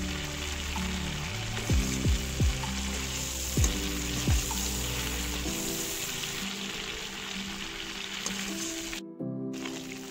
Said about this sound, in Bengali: একই তেলের মধ্যে আমি আলুগুলো ফ্রাই করে নেবো।